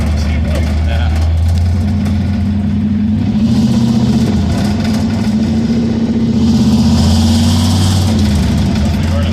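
A 1949 Studebaker gasser engine, fitted with new spark plugs, idles steadily with a low rumble that rises slightly partway through, while people talk nearby.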